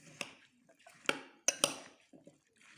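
Fruit chaat being stirred in a bowl, with light clinks of a spoon against the dish and soft wet sloshing in a few close, irregular bursts.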